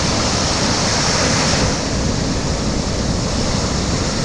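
Ocean surf breaking steadily on a Costa Rica shore, a continuous loud wash of waves with wind noise buffeting the microphone, no voices heard.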